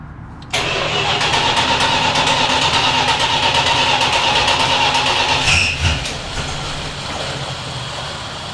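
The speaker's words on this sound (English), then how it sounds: "I use my left hand to turn the ignition, my right hand on the choke. And then as soon as it catches, I'm gonna push the choke back in" A 1970 Dodge Polara wagon engine cranks and catches with the choke pulled, then settles into a steady, loud idle that dips slightly as it smooths out; no talking.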